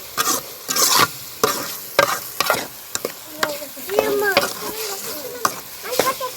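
Mutton keema with masala and ginger is stirred in a pan, with quick, close, irregular scraping strokes over a light sizzle.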